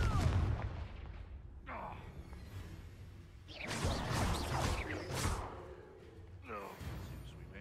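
Confringo fire-blast spells erupt in several loud explosions during a raid in the Hogwarts Legacy video game. A cluster of blasts arrives midway and another bursts near the end, set over a rumbling, busy game soundscape.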